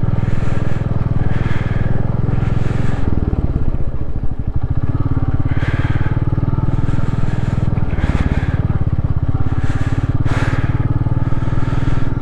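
A vehicle creeps slowly down a rough, damaged mountain road in North Sikkim: a loud, close, continuous engine drone with shifting pitch, punctuated by clattering and jolting knocks from the uneven surface.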